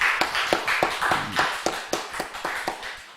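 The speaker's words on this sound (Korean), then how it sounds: "하나님께 우리 영광의 박수 올려 드리겠습니다" Congregation in a Korean church applauding together, a room full of hands clapping in a steady, fairly even rhythm with sharp slaps, moderately close and sustained without voices.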